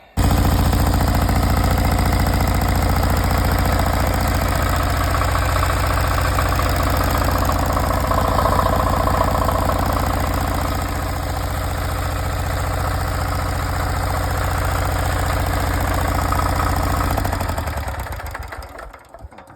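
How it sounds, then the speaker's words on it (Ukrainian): A 186 diesel engine runs loudly and steadily with a rough, knocking idle, close by, before winding down and cutting out near the end. "двигун запустився"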